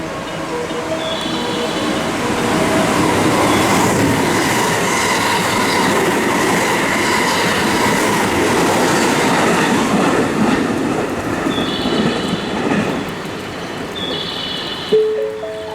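A JR West Kyoto Line train roars loudly through Suita Station without stopping, a steady rumble with clattering wheels and brief high squeals, and a platform chime or announcement tone sounds near the end.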